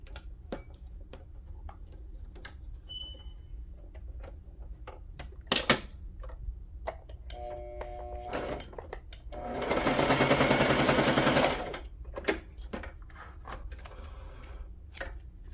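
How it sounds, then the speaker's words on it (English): Sewing machine running a straight stitch through a tea bag for a junk journal page, with a short burst of steady whirring mid-clip amid scattered clicks and handling taps in a quiet room. "I'm just gonna try to sew that on with a straight stitch."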